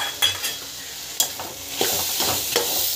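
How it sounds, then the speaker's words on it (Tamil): A mixer-ground coconut spice paste sautés in a pan, hissing steadily up close while a spoon scrapes and stirs through it in a few distinct strokes. "கொஞ்ச நேரம் வதங்கட்டும்."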